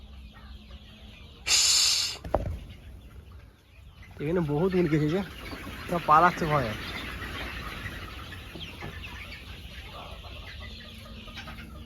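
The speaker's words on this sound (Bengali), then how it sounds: "অনেক মুরগি আছে অনেক মুরগি" Desi chickens on a country chicken farm in a village neighbourhood, clucking and squawking in a few close bursts mid-clip, with a person talking over and between them and some low background noise.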